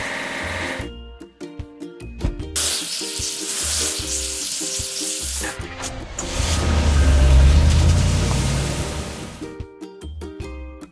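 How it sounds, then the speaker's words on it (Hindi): In a video game, a hissing water spray washing a cement mixer switches on and off in long bursts over a background of steady electronic music, with a deeper rushing swell in the middle. "अब हमें इसे धोकर साफ करने की जरूरत है।"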